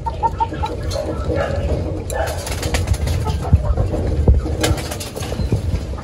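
Soft, repeated coos from breeding pigeons with young in the opening seconds, blended into a noisy backdrop with rustling, low rumble and occasional wing flutters.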